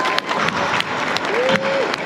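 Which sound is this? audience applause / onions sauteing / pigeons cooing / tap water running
audience applause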